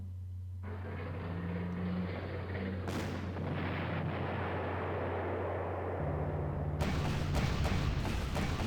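Artillery shelling in the WWII strategy game Panzer Corps, heard as a dense, rumbling barrage of blasts that carries on without a break. A steady low drone sits under it and the noise swells near the end.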